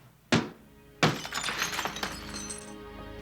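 A glass window is smashed during a house break-in: one sharp thunk, then a heavier crash followed by a spill of tinkling, shattering shards that fades out.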